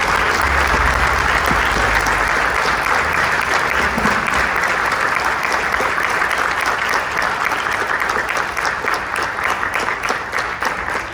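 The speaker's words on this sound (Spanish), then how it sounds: "Recibamos con un fuerte aplauso, por favor." Sustained audience applause greeting a speaker taking the stage at a talk, loud and thick with clapping that keeps a constant level throughout before tapering slightly near the end.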